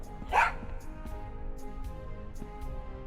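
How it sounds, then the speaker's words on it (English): A cartoon dog in the adventure game Tales of Monkey Island gives a single short, sharp bark near the start, followed by quieter game ambience and faint clicks. "Oh yeah, that's the dog."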